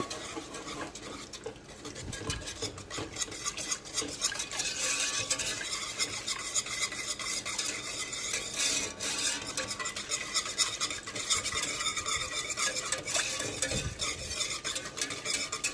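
A spoon stirs sweet cucumber salad with vinegar and mustard seed in a pot on high heat, a steady close scraping and sloshing that runs the whole time, with a light sizzle underneath.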